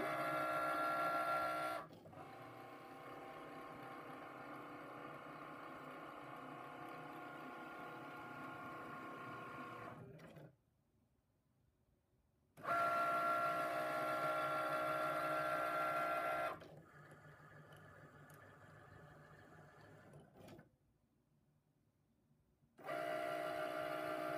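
A Cricut Maker draws a seam allowance onto canvas, giving a steady mechanical whir with ratcheting motor tones that runs for about eight seconds, pauses, resumes, pauses again, then starts once more, clear and close with no talk.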